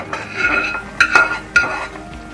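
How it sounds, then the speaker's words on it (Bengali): Fried cashews and raisins going into a pot of South Indian moong dal and rice payasam, with a few sharp metal spoon clinks and scrapes against the pot over a soft background. "এবার ভেজে রাখা কাজু আর কিশমিশটা এর মধ্যে দিয়ে দেবো।"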